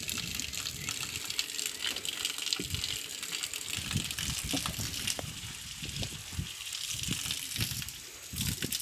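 Steady gush of flowing water pouring down outdoors on a farm, loud and continuous for the whole stretch with small splashing bursts and no voices.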